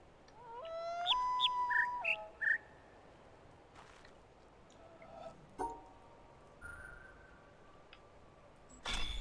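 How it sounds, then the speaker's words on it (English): Synthetic bird chirps from a puzzle in the video game The Witness: a quick run of bright, whistled tweets and trills, then sparser single chirps and clicks over a faint ambient background. "you think you just have to listen to the chirping the whole time"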